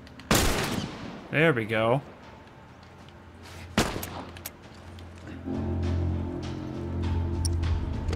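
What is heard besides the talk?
gunfire from a gun in The Last of Us video game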